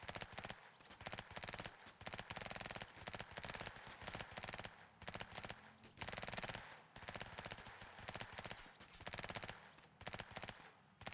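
Rapid, dense video-game gunfire from an emergency dispatch game rattles in continuous bursts, with clattering hoof-like beats throughout.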